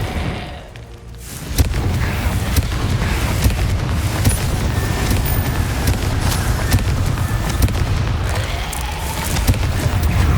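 Incendio and Confringo spell blasts in Hogwarts Legacy, a sudden loud onset into a dense, sustained rumble of fiery explosions and crackling bursts, close and continuous with sharp transient pops throughout.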